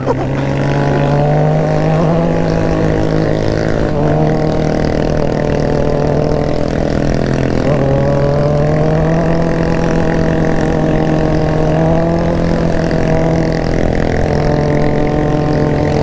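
Suzuki GSX-R 600 sport motorcycle riding through traffic, a loud close engine drone with shifting revs and gear changes, rising and falling steadily without a break, no speech.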